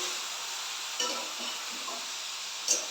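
Food is stirred in a frying pan, giving a faint, even sizzle with a couple of soft clinks and scrapes near the end, with no voices.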